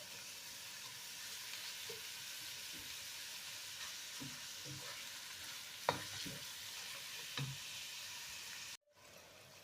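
Minced meat frying in a pan with carrot and onion, a steady soft sizzle with a few light utensil taps and scrapes, then cutting off abruptly near the end.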